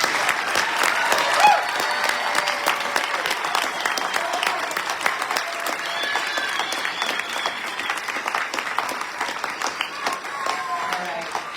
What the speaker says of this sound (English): I want you guys to give our graduates a great big round of applause